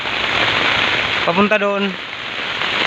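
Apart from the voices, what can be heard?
heavy rain from typhoon Neneng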